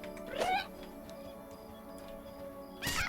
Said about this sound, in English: This cat, I swear, is not satisfied with all of the food and snacks I gave him.